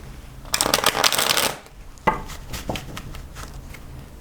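A deck of Rider-Waite-Smith tarot cards is shuffled up close in a dense riffling burst, followed by a few softer taps and slides as the cards settle.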